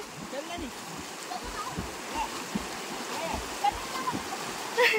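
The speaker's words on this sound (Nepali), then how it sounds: "उसको खेलाइ चाहिँ यस्तै मात्रै हो कि पानी उफार्ने" Water splashes and gurgles in a flowing stream, with brief louder splashes near the end over a constant rushing background.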